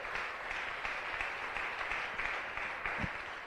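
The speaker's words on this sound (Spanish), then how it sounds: "Dale fuerte aplauso al Rey de Reyes" Sustained congregation applause fills a church service, a dense steady patter of many hands clapping at moderate level with no pauses.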